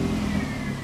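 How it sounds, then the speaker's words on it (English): A Dodge Stratus engine runs steadily with a small exhaust leak, giving a continuous low rumble that stays close and even throughout the short moment without any talk. "Got a little exhaust leak."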